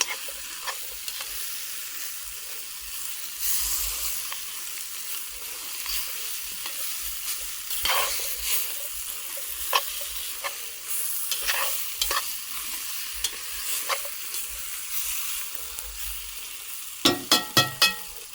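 Celery fries in a pot for beef bourguignon, giving a steady, gentle sizzle throughout with occasional soft stirring scrapes, then a quick run of sharp metallic taps near the end, all close by with no talking.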